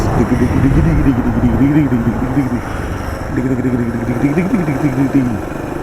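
A Kawasaki KLX 300 dual-sport motorcycle engine while riding, a loud mid-pitched drone that rises and falls in pitch with the throttle, dipping briefly midway before revving up again, close to the rider.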